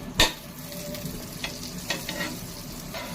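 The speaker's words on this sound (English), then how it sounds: "here I have heat the tawa and spread butter on it." Butter sizzling on a hot tawa, a loud scrape or clatter at the start, then a continuous close frying hiss with soft stirring and spreading scrapes over it.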